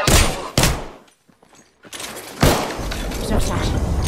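Bursts of gunfire in a battle royale video game, loud close volleys of rapid shots before and after a short lull, with shooting aimed at the player and a voice speaking briefly.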